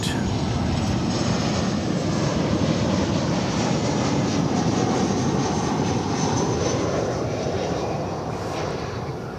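Loud, steady roar of a jet airliner landing on runway 18 right at DFW Airport, broad engine and air rumble holding throughout and easing slightly at the end, with no talk.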